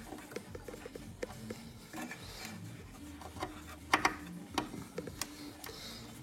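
A screw is turned into the circuit board support of an R2D2 model, heard as quiet irregular scraping and ticking with a few sharper clicks and small knocks near the middle, close and faint.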